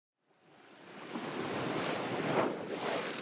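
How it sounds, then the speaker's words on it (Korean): Sea waves surge up from silence into a broad, rolling wash of surf, growing louder and cresting before easing slightly, with wind noise mixed in and no talking. "보이는 거라곤 끝없이 출렁이는 파도뿐"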